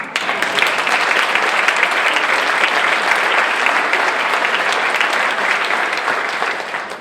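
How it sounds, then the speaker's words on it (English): Sustained applause from an audience in a room at a South Shore Chamber event addressed by the governor, steady and fairly loud throughout with no speech over it. "Now you can applaud all of them."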